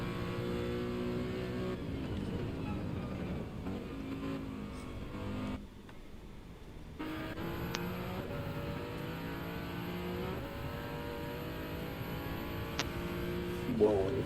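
Steady, loud race car engine drone in Gran Turismo 7 with shifting pitch as it revs and accelerates, continuous throughout with a brief dip in the middle.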